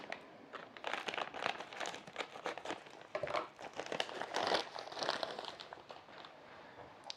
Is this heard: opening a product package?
yes